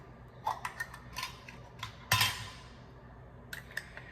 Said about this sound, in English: I'm just gonna go ahead and just give this second one a good stir.